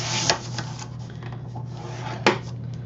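Bone folder or stylus scoring a sheet of paper one inch in from each edge for a handmade photo folder, heard as a steady dry rubbing scrape with two sharper strokes, close and fairly quiet over a low steady hum.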